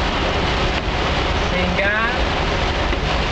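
Heavy rain pours steadily on a deserted street on a January morning, a dense, unbroken wash of noise filling the whole clip, with a brief spoken word and a passing vehicle tone partly heard beneath it.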